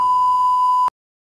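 A phone message notification sounds as a single steady electronic beep, loud and close, lasting just under a second before cutting off to silence, with no talking.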